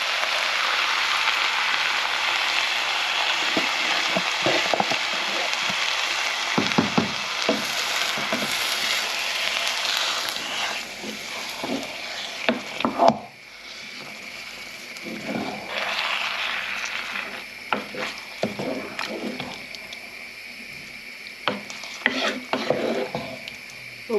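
Tinned tomatoes and passata for a bolognese bubble and sizzle in a pan, with scraping stirs, irregular knocks and clatters coming and going over a continuous, fairly quiet hiss.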